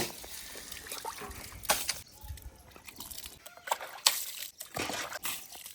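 Shoes being washed with water make irregular splashes, sloshes and trickles, moderately close, with brief pauses between bursts of pouring and scrubbing.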